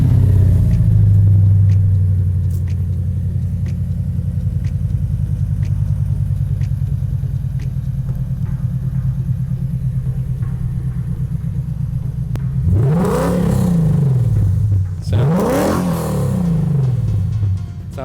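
A modified car's engine idles with a deep, loud, lumpy rumble for a long stretch, then two sharp revs swell and fall back, heard close with no talk.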